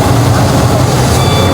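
Warning beeps from an excavator at a Bekasi road construction site, a steady repeating tone over heavy engine rumble, loud and continuous throughout.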